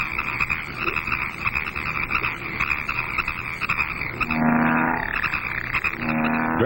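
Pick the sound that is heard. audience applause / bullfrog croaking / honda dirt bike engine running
bullfrog croaking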